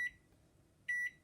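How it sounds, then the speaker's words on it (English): Two short electronic beeps from a kitchen timer being set, about a second apart, clear and moderately close with no talking. "I'm going to set a timer now"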